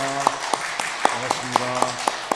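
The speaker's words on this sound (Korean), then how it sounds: "우리 환영의 박수 하겠습니다" A church congregation gives welcoming applause for a first-time visitor at a Baptist Sunday service, heard as evenly spaced, crisp claps over soft sustained music.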